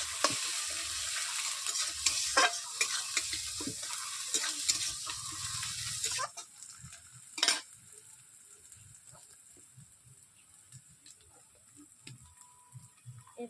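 Onions sizzle and fry in a pan with a pinch of salt as they are stirred, with steady loud crackling for several seconds before it drops to a quieter simmer with scattered scraping clinks.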